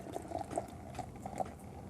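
Ayinger Oktoberfest Märzen beer being poured hard into a glass, giving soft fizzing, bubbling and gurgling close by at low volume, with a few brief splashy bursts.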